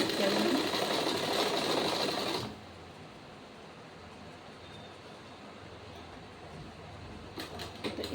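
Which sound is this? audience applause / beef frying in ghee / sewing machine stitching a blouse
sewing machine stitching a blouse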